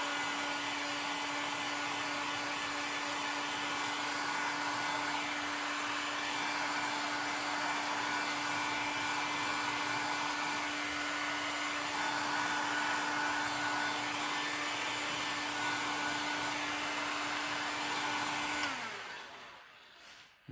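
A heat gun gently warms a car window on a Renault Kangoo, blowing with a steady, close, even whirring hiss for about nineteen seconds before cutting off and winding down.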